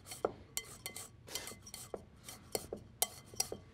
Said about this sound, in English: we're going to also add a little bit of zest from the lime